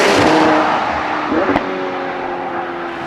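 A McLaren 720S Spider widebody without the sport exhaust system revs loudly nearby, a muted engine roar that holds then eases off, with a brief tonal blip midway.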